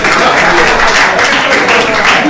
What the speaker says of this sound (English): This is a man that I want you to please give a round of applause to.